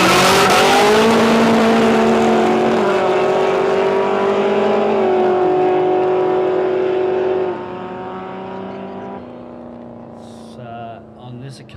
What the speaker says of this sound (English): First pass of the day for the Hobo in that very quick little VW Beetle